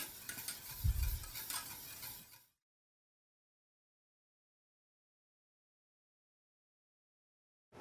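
Béchamel sauce is whisked in a saucepan, with a couple of seconds of scraping, sloshing whisk strokes against the pan that then stop abruptly into silence.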